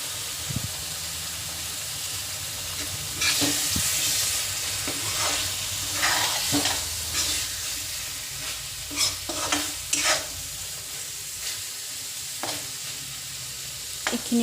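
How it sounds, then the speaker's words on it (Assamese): Pieces of fried fish are stirred and frying in a pan of hot oil, a steady sizzle broken by repeated scraping clanks of the spoon, close and without talk. "এতিয়া মই ইয়াতে ফ্ৰাই কৰি লোৱা মাছ কেইপিচ দি দিম।"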